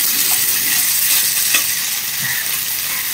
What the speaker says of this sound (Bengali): এই যে পেঁয়াজটা ভাজার পরে যেটুকু তেল ছিল ওই তেলটার মধ্যেই দেখো আমি কিছুটা আদা বাটা দিয়ে দিচ্ছি